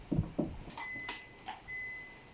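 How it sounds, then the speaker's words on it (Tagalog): A Super Bio device gives short, thin electronic beeps when switched on, a few faint tones spaced out over soft knocks and handling noise, with no talk. "Kita nyo naman siya kanina, nag-beep."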